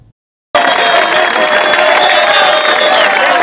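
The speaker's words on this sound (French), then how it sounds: "C'est sous ces acclamations que les finalistes ont accueilli le gouverneur de province" Finalist students at Collège Saint-Boniface Kitumaini in Haut-Katanga cheer and shout loudly to welcome provincial governor Jacques Kabula Katwe, a sustained dense crowd roar with high-pitched voices that bursts in after a brief silence.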